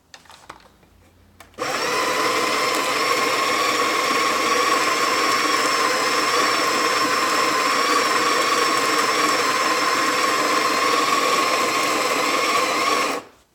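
A Saeco coffee machine grinder runs steadily after a short quiet start, giving one continuous loud whirring grind of coffee beans that holds at an even level for about eleven seconds and then stops abruptly.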